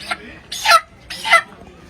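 A chicken at a market stall gives two or three short, sharp clucks close to the microphone, spaced about half a second apart, against a quiet background.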